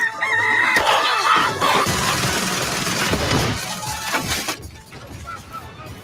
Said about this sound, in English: Who brought the rooster?